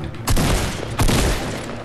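Two heavy, booming gunshot blasts from Fortnite, about 0.7 seconds apart, loud and close, with noisy rumble trailing after each.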